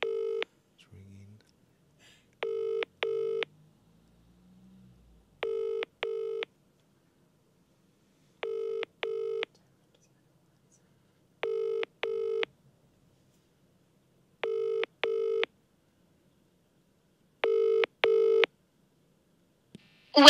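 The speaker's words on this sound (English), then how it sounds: "It's ringing." A UK mobile phone ringback tone repeats in regular double pulses, about seven cycles with silent gaps between, clear and steady.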